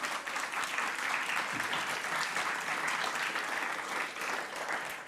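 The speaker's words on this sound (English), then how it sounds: "they can do applause now" A workshop audience applauds steadily, a dense, even wash of clapping that holds at the same level throughout without other sounds.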